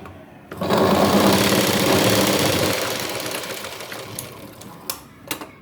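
A sewing machine runs in a steady, loud burst as it stitches tucks along the shoulder side of a blouse, then slows and stops, leaving a few faint clicks and taps at the end.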